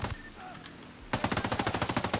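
Turret machine gun in Ghost Recon Breakpoint rattling off a steady, rapid burst of loud shots after a quieter stretch of ambient game noise, the rounds evenly spaced and close.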